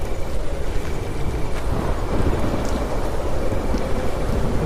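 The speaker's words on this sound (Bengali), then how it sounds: "হঠাৎ উঠল হাওয়া, সেই সঙ্গে বৃষ্টি।" Rain pouring and wind gusting in a dark forest for a horror story, a loud continuous downpour with low rumbling, steady and enveloping throughout.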